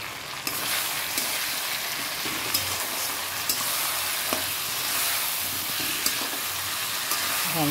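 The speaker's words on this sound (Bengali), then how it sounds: "ভালো করে নাড়াচাড়া দিয়ে দিই।" Cumin and spice paste frying in a pan while being stirred, a bright continuous sizzle with occasional soft scrapes and taps of the utensil, close and without talk.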